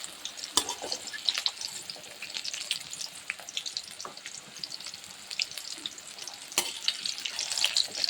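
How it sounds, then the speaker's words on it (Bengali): Vegetables crackle and sizzle while frying in a pan, with occasional sharp pops, light stirring and watery splashes over a steady hiss that swells slightly near the end. "কাঁকরোল ভাজা, পটল ভাজা হয়ে গেছে, এবার আলুটা ভেজে নেব।"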